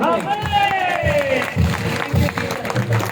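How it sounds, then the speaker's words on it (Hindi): Rhythmic hand clapping from a group at a prayer meeting builds under a voice, the claps steady and moderately loud. "एक बार होली स्पिरिट के लिए ताली बजाएंगे।"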